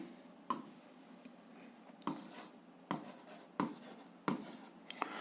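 An algebra solution is written out by hand, with faint, close pen or marker strokes coming in a few short separated bursts against quiet room noise and no speech.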